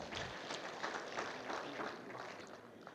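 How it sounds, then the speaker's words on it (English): Retirees and pensioners at a pension forum in Gombe applaud as a crowd, producing a continuous, even wash of clapping that sounds fairly faint and distant. "So give yourselves a round of applause."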